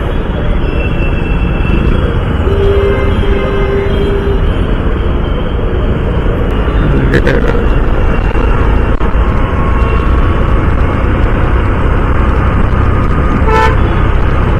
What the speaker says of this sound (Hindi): Traffic he traffic.